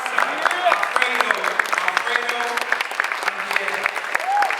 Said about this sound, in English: please, un aplauso for my friend,